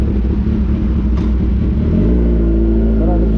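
Kawasaki Z1000 R motorcycle engine running up close, a steady low rumble that deepens and shifts in pitch partway through, with faint voices in the background.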